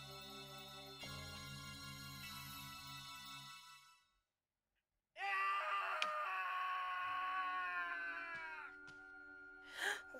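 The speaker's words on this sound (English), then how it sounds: "What's that scream?" A scream rings out in the horror video game Clock Tower II: The Struggle Within, a long strained, wavering cry with rich harmonics that follows a tonal drone and a short silence, ending with a sharp final rise.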